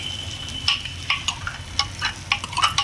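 Nut butter paste is stirred into a prawn malai curry in a pan. Close, repeated spoon scrapes and wet stirring strokes sound over a low simmer, and no one speaks.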